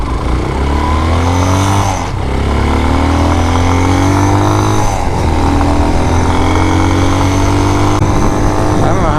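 A Vitacci Basha motorcycle engine runs steadily and loud and close, with its buzzing drone rising and falling as the throttle shifts while it is ridden through the woods.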